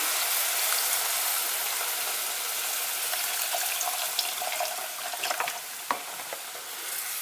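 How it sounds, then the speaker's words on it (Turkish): Milk poured over lightly toasted butter and flour in a pan, a continuous close, watery sizzling rush that eases slightly, with soft stirring taps and clinks toward the end, no talking. "Tereyağı ve unun üzerine tam 1 litre sütü boşaltıyorum."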